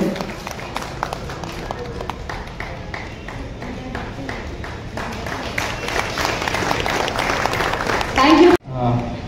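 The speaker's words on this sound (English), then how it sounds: "Let's give another huge round of applause" A crowd applauds at the inauguration of an auto showroom, with dense, steady clapping that swells toward the end and then cuts off abruptly, with voices mixed in.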